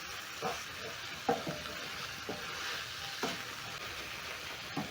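Minced meat and carrots fry in a pot for a stew, giving a steady soft sizzle with a few brief stirring scrapes and knocks spread through, fairly quiet and close with no talk.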